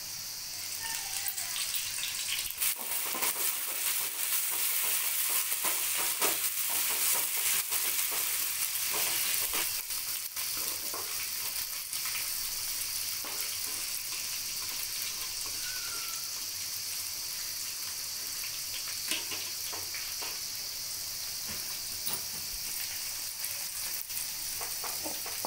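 Onions, green chillies and coriander fry in a pan for a masala curry, giving a steady, close sizzle with scattered crackles and stirring clatter throughout and no voices.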